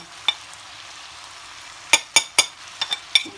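Chili powder, salt and coriander powder are stirred into a hot frying pan, with a faint steady sizzle and several sharp spoon scrapes and taps, mostly clustered in quick bursts near the end.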